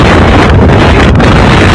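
A strong whirlwind outdoors near water, heard as loud, roaring gusts buffeting the microphone in a continuous close blast for under two seconds.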